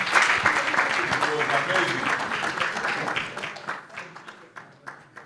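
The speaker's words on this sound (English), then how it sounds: "Another clap for him, kindly." An audience at a democracy and legal activism forum claps for a speaker, a dense burst of applause that thins into scattered claps as it dies away.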